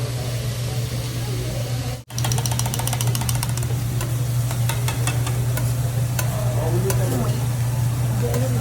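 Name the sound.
rice frying in a pan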